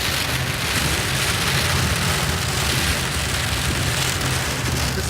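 Heavy rain pours steadily onto surfaces during an ice storm on a Utah road, a dense, even hiss with a low rumble underneath, constant and fairly loud, with no voices.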